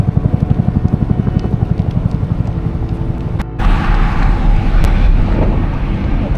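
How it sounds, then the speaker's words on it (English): The deep rhythmic thudding of helicopter rotors near Janesville Airport is heard while riding a fixed-gear bicycle, then gives way to strong wind buffeting the microphone. "Hear the helicopters."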